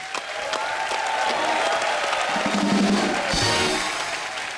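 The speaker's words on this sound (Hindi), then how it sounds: "एक बार सलमान भाई, सोहेल भाई और अरबाज भाई के लिए जोरदार तालियां हो जाएं" A studio audience at a comedy talk show breaks into steady, dense applause for celebrity guests, a continuous wash of clapping that swells and fades with a few voices mixed in.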